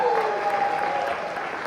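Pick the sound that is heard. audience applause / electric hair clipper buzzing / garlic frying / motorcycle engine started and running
audience applause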